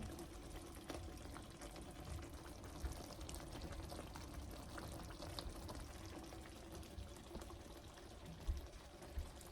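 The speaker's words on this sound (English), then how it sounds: "Look at this simmer." Chicken pot pie filling simmers in a pot, giving a quiet, continuous bubbling and gurgling with occasional soft pops, faint and close.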